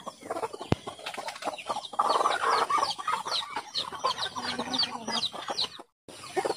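Chickens cluck close by in a busy, overlapping chatter, with short soft calls repeating throughout and a brief sharp knock early on.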